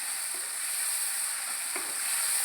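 Ground garlic and coconut paste fries in a pan for gongura chicken, producing a steady, close hiss of sizzling with a few soft stirring scrapes beneath it, and no voices.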